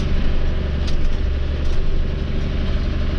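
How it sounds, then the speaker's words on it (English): A John Deere 3055 tractor fitted with a front end loader runs steadily nearby, its engine a loud, continuous low rumble with no breaks and no voices over it. "Running a John Deere 3055 with a front end loader"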